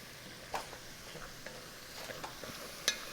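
Beef goulash stirred and scraped off the bottom of a pan over medium heat: quiet, scattered scraping strokes with soft clicks of the utensil against the pan, close by with no talking.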